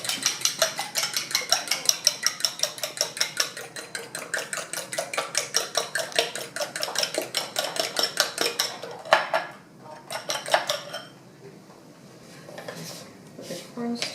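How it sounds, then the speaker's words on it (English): Eggs being beaten in a bowl, a fast steady run of clinking whisk or fork strikes against the sides that slows and breaks off into a few scattered taps near the end. "Beat the eggs."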